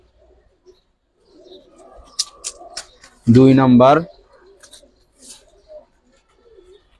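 Large racer pigeons give a few soft coos close by, with one louder, throaty coo in the middle. Someone talks quietly in between.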